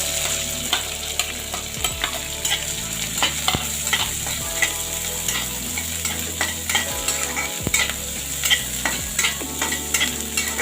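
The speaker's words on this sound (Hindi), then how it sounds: "अब मैं इसमें प्याज को ऐड कर दूंगी।" Onions frying in a pan for a bottle gourd dish, a loud continuous sizzle with frequent rhythmic stirring clatter and scraping throughout, no talking.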